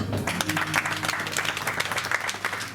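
Church congregation at a thanksgiving service applauding steadily, a dense, continuous wash of hand claps filling the room with faint voices mixed in.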